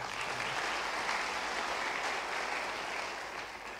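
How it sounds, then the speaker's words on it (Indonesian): Church congregation applauds during a sermon, a continuous, even roar of many hands clapping that holds steady throughout and eases slightly at the end. "Yang berani beri tepuk tangan buat dia."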